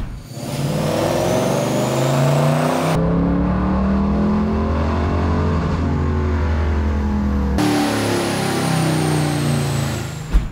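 A Fox Body Mustang with a swapped 7.3L Godzilla V8 roars through a loud, sustained dyno pull, its engine note sweeping upward steadily with no talk over it.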